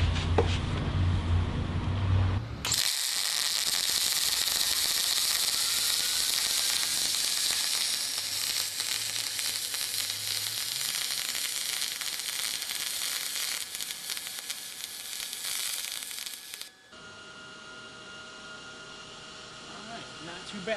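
MIG welding a quarter-inch aluminum T-joint with a Miller Spoolmate spool gun gives a loud, steady crackling hiss lasting about fourteen seconds, sharply starting and stopping, with a low hum before and after.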